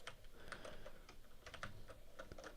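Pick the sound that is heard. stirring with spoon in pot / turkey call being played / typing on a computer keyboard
typing on a computer keyboard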